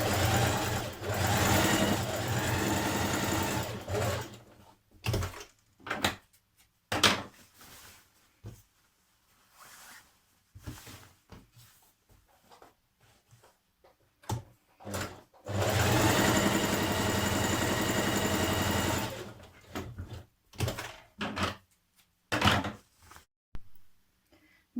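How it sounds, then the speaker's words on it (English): A sewing machine stay-stitches around the neckline of a New Look 6145 spring dress, running in two long steady bursts separated by stretches of quieter handling and short clicks. "You're going to stay stitch around the neckline here."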